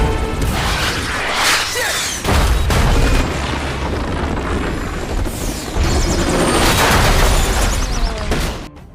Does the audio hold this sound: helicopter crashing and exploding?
yes